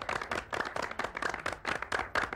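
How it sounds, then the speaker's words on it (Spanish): An audience claps in quick, uneven bursts of separate hand claps that rise and fall at close range, sounding like a modest crowd applauding performers. "Y ¿podemos que aplaudirles? Sí, vamos."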